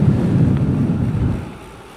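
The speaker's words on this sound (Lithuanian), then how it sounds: "čia vat teka vat vanduo grinai apačioj pagal šitą kanalą" Water from a canal in the apple-growing region of northern Greece, heard as a steady low rushing wash that runs evenly, then gently fades toward the end.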